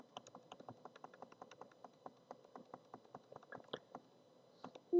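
Rapid light clicks tap out in an uneven run, close and quiet, like a computer mouse clicking through fire alarm panel programming software, ending with a brief louder burst.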